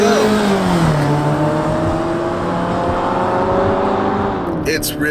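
2017 Fiat 500X AWD engine revving hard in race mode while climbing a steep off-road gold mine hill, the loud straining tone rising and falling in pitch, close and sustained, with a brief burst of noise at the end.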